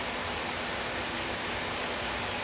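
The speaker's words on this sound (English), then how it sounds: "we're going to spray this adhesive" A spray can of adhesive sprays in one steady, loud hiss, heard close up after a brief quiet start and holding to the end.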